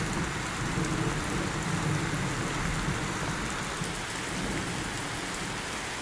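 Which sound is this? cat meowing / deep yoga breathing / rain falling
rain falling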